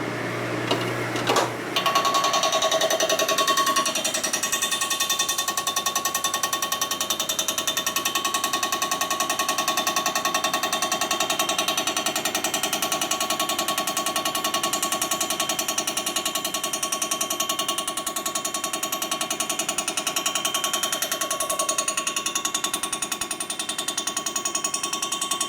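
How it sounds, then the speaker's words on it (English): Metal being ground during shop fabrication of a car trailer tailgate: a loud, continuous, harsh mechanical roar that starts after a brief knock and runs steadily and close for the whole stretch, with no talk. "It keeps grinding."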